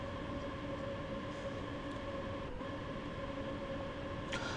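Flirt 3 electric multiple-unit trains passing on a busy Rhine-Ruhr main line in the Train Sim World video game, a steady loud rolling rumble with a constant hum throughout and a faint clatter near the end.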